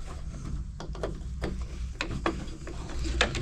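Screws are worked out of a BMW 5 Series F10 front headlight, giving scattered soft scraping, rasping and small clicking noises up close, with faint background hum and no speech.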